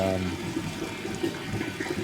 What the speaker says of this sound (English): Just let this 350 or 400 gallons drain through here